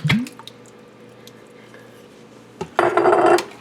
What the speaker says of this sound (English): And we kind of stir this all together.